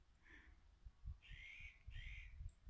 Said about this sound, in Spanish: Los pájaros.